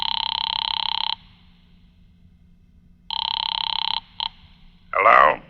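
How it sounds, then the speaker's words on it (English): An old-style telephone bell rings in two long electric bursts with a short extra ring, a radio drama sound effect, close and loud over a quiet background, followed by a brief muffled sound at the end. "I went to a phone booth and called my client, Fred Lane."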